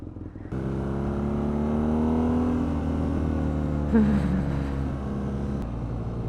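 A BMW R nineT Scrambler motorcycle engine idles up close with a steady, throbbing drone that rises slightly in pitch midway, plus a brief mechanical clunk, heard alone without talk.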